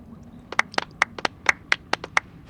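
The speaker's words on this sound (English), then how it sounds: "A round of applause," Applause from a small group in a Genshin Impact cutscene: about a dozen sharp, distinct hand claps in an uneven rhythm over roughly two seconds, fairly close and alone, with no voices.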